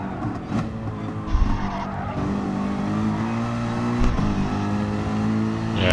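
Race car engines drone and rev steadily in Gran Turismo Sport, with tires scrubbing and a brief bump of contact between cars partway through, all loud and close without talk.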